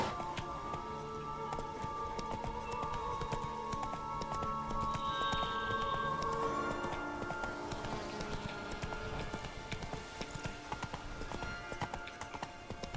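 Roach, a horse in the video game The Witcher 3, gallops steadily with rhythmic clip-clop hoofbeats throughout, backed by game music and ambience.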